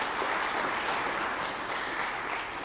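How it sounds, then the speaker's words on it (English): Audience applause at a policy lecture on climate action, a continuous wash of clapping from a hall full of guests that stays level and fades slightly at the end. "So let's clap for you."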